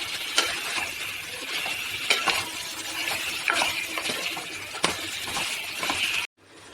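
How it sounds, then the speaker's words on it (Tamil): A spoon or spatula working a spice paste and milk together in a pan for mutton leg curry, with repeated clinking scrapes every second or so over a soft bubbling hiss, cut off abruptly at the end. "இந்த பேஸ்ட்டோட அந்த பாலை வந்து நல்லா மிக்ஸ் பண்ணிக்கிறோம்"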